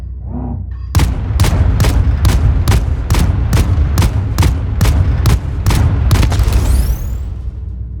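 Container shot and destroyed in the video game Void Crew: a rapid series of about a dozen sharp, loud shots at a steady rhythm, ending in a sweeping whine as the target breaks apart.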